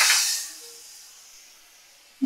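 A short hiss as water hits a hot cooking pan holding yogurt and ginger paste, a sharp burst of sizzling that quickly fades to a soft simmering hush.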